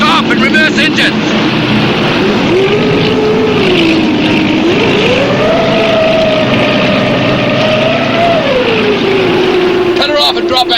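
Boat engines rumble loud and steady, with a droning tone that rises, holds and then falls back as the engines are stopped and reversed, and brief voices come in at the start and end.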